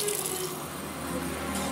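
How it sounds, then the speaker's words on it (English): Tap water runs steadily into a glass, a continuous hissing splash at moderate level throughout, with no voices. "Hattie, can I have a glass of water?"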